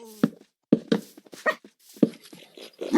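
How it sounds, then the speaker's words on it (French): A dog in a video game whimpers and yelps in short, close bursts, several whiny cries separated by brief pauses. "Chien!"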